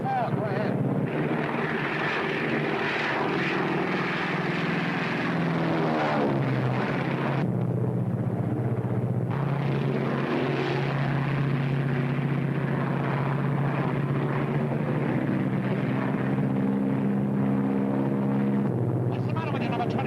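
A World War II-era propeller aircraft in flight during aerial gunnery training, its engine droning steadily and loudly throughout, with voices occasionally heard over the noise.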